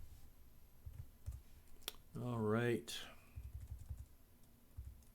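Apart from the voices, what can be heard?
computer keyboard typing and shortcut keys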